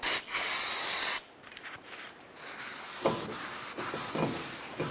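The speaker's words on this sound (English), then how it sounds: "take a little brake parts cleaner, spray it down, and wipe it with a rag" A loud spray of aerosol brake parts cleaner hisses for about a second, then stops, followed by quiet rustling and light handling noises, during a wheel bearing and hub replacement on a Nissan Xterra.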